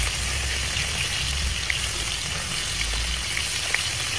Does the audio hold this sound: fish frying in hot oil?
yes